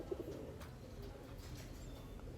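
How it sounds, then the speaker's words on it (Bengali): Andhra pigeons cooing softly in a low, continuous murmur, with faint background noise throughout. "এর অরিজিনাল আন্ধ্রা পায়রা।"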